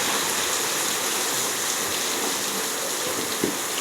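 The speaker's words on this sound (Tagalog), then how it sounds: "Yeah, it's raining." Rain falls steadily in a dense, even hiss that fills the whole stretch with no break and no voices.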